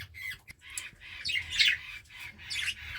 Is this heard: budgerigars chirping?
yes